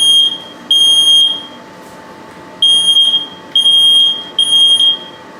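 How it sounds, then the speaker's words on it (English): A smoke alarm beeps loudly in repeated high-pitched bursts, about five in total, with short gaps between them, over faint background hiss, set off during home coffee roasting. "oh, no, still got a smoke alarm."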